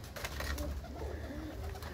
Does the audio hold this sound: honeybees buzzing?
no